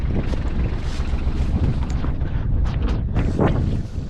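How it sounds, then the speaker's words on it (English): Strong wind buffets the microphone throughout, a constant roaring rumble with gusty surges and no other clear sounds. "It's quite windy today, so I don't know whether you can hear"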